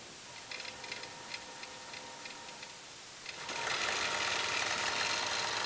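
A quilting machine ticks softly as it ties off on a log cabin quilt block, then begins a steady, faint, rapid stitching hum.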